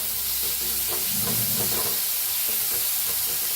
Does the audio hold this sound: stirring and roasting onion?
yes